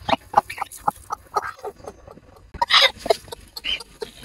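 A large broody hen clucks in a run of short, close bursts with small gaps, growing louder and busier toward the middle before tapering off.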